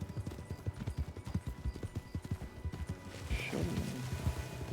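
Horse hooves clip-clop at a steady, quick pace in a Red Dead roleplay video game. The beats are close and distinct, with a brief higher squeal near the end.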